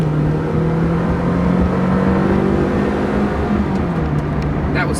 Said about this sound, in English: The engine produces a pretty nice little bark.